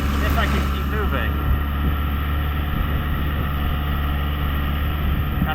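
A Ford 6610 tractor pulling a manure spreader across soft, wet ground, its engine a loud, steady drone that runs the whole time with no letup, with talk over it.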